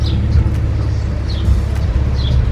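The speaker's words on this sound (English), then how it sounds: "is home with his noisy car" A noisy car engine's low, rough rumble drones steadily nearby, loud and continuous, with faint chirps above it.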